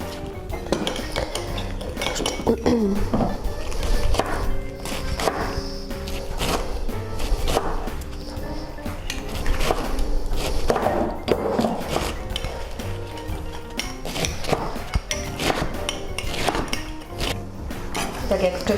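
Steady rapid knife chopping of vegetables on a board with clinks of utensils and dishes, continuous and fairly close throughout.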